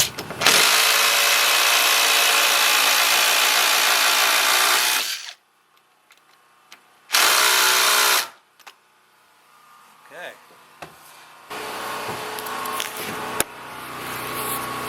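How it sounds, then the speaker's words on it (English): Power drill driving screws into a wooden stair riser on a 30-degree winder staircase, with two long loud whirring bursts, a shorter third burst, then quieter handling and knocking noises. "I screwed along the front right down into the riser that's down below"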